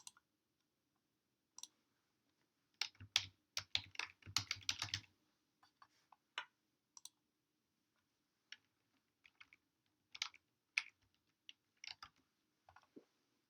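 Keys clicking on a computer keyboard in scattered bursts, with a dense flurry early on and then sparse single taps, all quiet and close with no voices.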